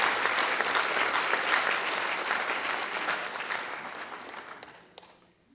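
Audience applause at a Weizmann Global Gathering 2014 innovation conference, a dense steady clapping from a large crowd that holds for about five seconds before thinning and fading out at the end.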